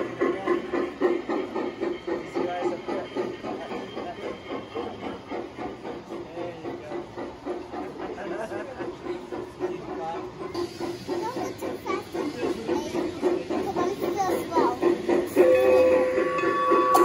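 Garden-scale model trains, an Aristo Mikado and a Bachmann Mogul, running on an outdoor layout at a club home tour, a continuous rhythmic rail clatter with hiss and a brief whistle-like tone near the end.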